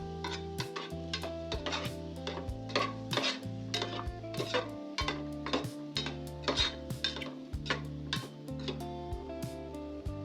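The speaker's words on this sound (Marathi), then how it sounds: "आणि आता या सगळ्या मसाल्यांमध्ये आपण हे कॉर्न, पनीर आणि आपलं पालक मस्त परतून घेऊया" Corn, paneer and spinach are tossed in spices in a pan, with a spoon scraping and tapping the metal in quick irregular clicks over a faint sizzle and steady background music.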